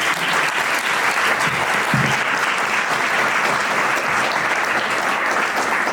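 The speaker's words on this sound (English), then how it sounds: "I think this is a good time to applaud our panelists for all they shared." An audience applauds the panelists at a start-up discussion event, loud and sustained clapping from a sizeable crowd filling the room, steady throughout with no speech on top.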